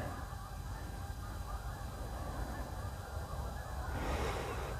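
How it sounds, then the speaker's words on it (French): Distant ducks calling outdoors, faint and buried in steady ambient noise, with a louder cluster of honking calls near the end. "Il y a des canards."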